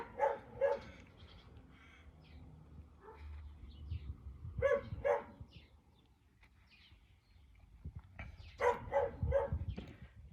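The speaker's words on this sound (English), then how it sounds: "all I got is the neighbour's dogs barking." Neighbouring dogs bark outdoors in short bursts of two or three sharp barks, separated by quiet gaps, and they sound moderately distant.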